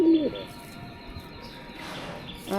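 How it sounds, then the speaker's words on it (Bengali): Pet racing pigeons in a loft give low, throaty coos. A short call sounds at the start and again at the end, with quiet room noise between them. "দুইটাই ডাকে বুঝলাম না কিছু দেখেন দুইটাই ডাকে"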